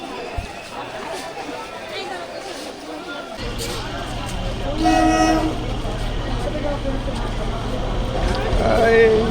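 Local train at Ranaghat junction railway station: a continuous low rumble of rolling stock with tonal horn-like blasts partway through, under crowd chatter and voices in the background.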